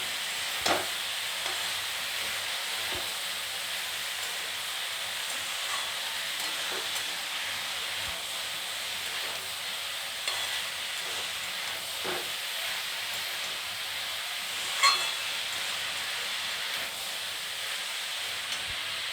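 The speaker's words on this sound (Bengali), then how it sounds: "খুব ভালো করে এবার সবজিটাকে ভেজে নেব।" Vegetables with capsicum frying in a pan for a pasta dish: a steady, close sizzle and hiss throughout, with faint stirring clicks and a few soft scrapes.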